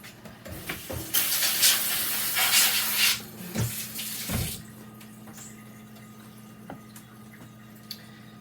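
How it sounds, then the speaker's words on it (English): Kitchen tap water splashes and hisses while strawberries are rinsed, a steady rush for a few seconds that breaks into intermittent splashes and then faint drips over a low hum. "I rinsed our strawberries, but they're going to make a mess all over."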